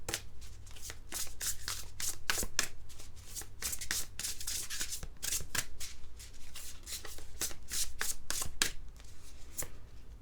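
Oracle cards being shuffled by hand in a steady run of crisp riffling flutters and soft slaps, close and continuous with no talking.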